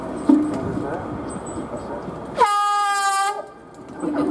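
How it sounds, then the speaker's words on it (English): The horn of locomotive 43002 blasts once, loud and sustained for about a second, cutting through the murmur of an open day crowd at a train depot, with chatter before and after. "I'm just going to ask Sir Kenneth if he can sound this horn."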